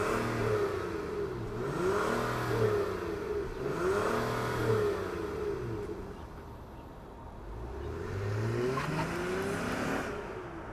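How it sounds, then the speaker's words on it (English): A 2025 Honda Odyssey Elite minivan's V6 engine revs repeatedly, rising and falling in pitch several times, fairly close and steady between revs. "let's fire up this V6 and hear what it sounds like"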